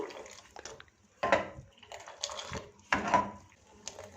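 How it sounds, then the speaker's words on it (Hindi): Cold water is poured into Kashmiri tea and the mixture is stirred and splashed, giving a series of wet sloshing bursts roughly every second and a half, close up and moderately loud, with faint clinks in between. "बिल्कुल ठंडा पानी तकरीबन आधा कप इसमें डाल दिया है।"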